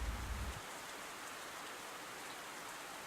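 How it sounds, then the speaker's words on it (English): Steady video-game rain falls in a soft, even wash of fine droplets, with a brief low rumble at the very start before the hiss continues quietly and unbroken. "Rain filled the sky as far as the eye could see."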